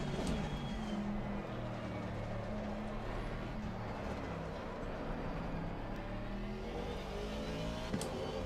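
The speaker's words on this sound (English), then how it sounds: "Let's turn the engine up a bit. It sounds a bit quiet." A racing car engine in Assetto Corsa hums steadily with layered harmonic tones, a continuous moderate drone with slight pitch shifts and no talking over it.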